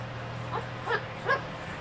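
A parrot imitates a dog, giving three short yipping barks spaced about a second apart over a steady low hum, close and moderately loud.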